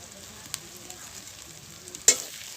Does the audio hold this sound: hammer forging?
no